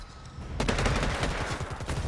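Rapid bursts of gunfire in the video game Predator Hunting Grounds, a dense volley of close, loud shots that starts abruptly and keeps rattling on without a break.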